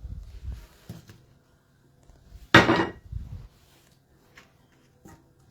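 A saucepan is handled in a kitchen while strawberries are put in for a Christmas log, giving a few light clatters and one louder metallic knock near the middle, then quiet.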